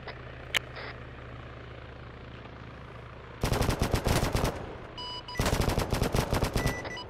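Machine gun fire in a military shooter game: after a quiet stretch with a low engine hum, two long, rapid bursts of loud, close gunfire rattle out, separated by a short pause, with no speech.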